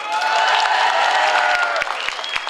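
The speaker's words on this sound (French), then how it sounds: "Applaudissez-le quand même!" Audience applause for a Stitch cosplayer at a Paris manga convention's individual cosplay contest, a short dense burst of clapping with some cheering, close and fairly loud, with a few sharp individual claps standing out near the end.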